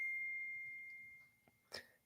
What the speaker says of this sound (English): Excuse my phone going off.